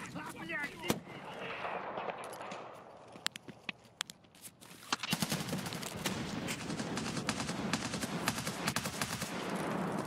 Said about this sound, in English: Why is he still shooting at me?